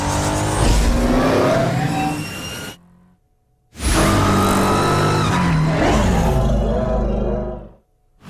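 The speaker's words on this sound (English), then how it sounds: "The primary sound is that reverse whine that came from the actual production car." A production car's reverse-gear whine, used as a racing sound effect, roars loud and close with high whining harmonics and tire squeal, cutting out briefly before a second sustained burst.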